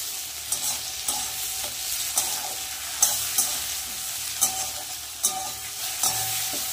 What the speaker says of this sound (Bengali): এই দেখো এখানে কিন্তু পেঁয়াজ আর টমেটো ভালো করে আমি ভেজে নিয়েছি